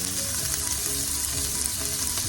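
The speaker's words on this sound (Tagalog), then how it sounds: "at ihalo ko na rin ang ating luya yun ang bango oh." Ginger is stirred into paksiw na tulingan, a vinegar-braised tuna dish, in a hot pan, with a steady close sizzle and bubbling throughout and no talk.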